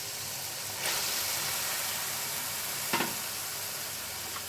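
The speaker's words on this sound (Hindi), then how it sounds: "अब हम इसके अंदर बॉईल की हुई दाल ऐड कर देंगे।" Boiled dal goes into a pan of fried masala for a dhaba-style daal mash, giving a steady close sizzle with two louder hissing bursts as more is added, with no talk.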